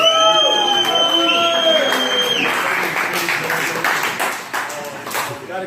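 An evening crowd at a car cruise night claps and cheers after an opening whoop, the applause loud at first and then thinning into scattered claps, with voices mixed in.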